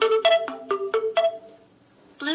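A cheap Bluetooth speaker powers on with a rapid run of bright, tuneful electronic chime notes, five or six quick tones in sequence, then a short pause before another tone begins, loud and close.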